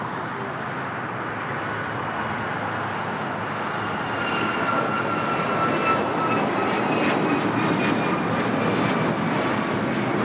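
Fixed-wing airplane at Los Angeles LAX airport, a loud sustained jet engine roar that swells partway through, with faint talk in the background.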